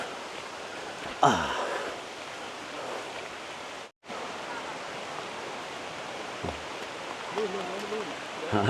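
Rain falls steadily at Khlong Nam Lai waterfall in Kamphaeng Phet, a broad, constant wash of water noise with a brief dropout midway, while a few voices murmur faintly in the background.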